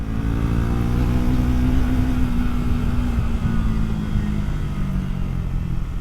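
Loud and close, a Triumph Tracker 400 motorcycle engine hums steadily as the bike accelerates above 60, its pitch climbing gently then easing, with constant wind rush throughout.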